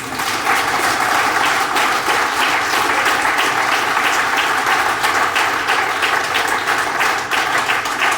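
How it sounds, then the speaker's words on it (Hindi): Loud, sustained applause from a large group fills the whole stretch, a dense, even roar of clapping without pause. "एक बार ताली बजाओ जोरदार से।"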